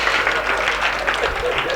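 Steady audience applause at a Hindi comic poetry gathering (hasya kavi sammelan) hosted by a Rotary Club, a dense wash of clapping sustained evenly through the moment.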